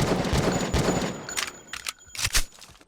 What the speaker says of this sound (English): 3 shots was enough to take it down